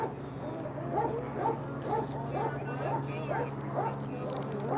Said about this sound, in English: I know the dog is getting restless.